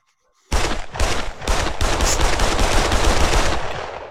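Rapid machine gun fire in the shooter game Pavlov, a loud continuous burst of closely spaced shots starting abruptly after a short silence and running for about three and a half seconds.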